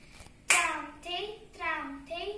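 Evenly spaced hand claps mark the beats of a Kathak teen taal cycle, each sharp clap followed by a voice reciting rhythmic syllables, close and moderately loud.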